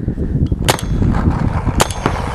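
Azodin Kaos mechanical paintball gun firing a few sharp shots, closely miked, over a noisy outdoor background.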